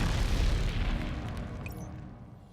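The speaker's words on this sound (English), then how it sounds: "A deafening explosion and a massive shockwave from the cannon stops Yuan in his tracks." A cannon blast in the video game Neural Cloud: a loud, deep booming explosion with a rumbling shockwave that slowly fades over a couple of seconds.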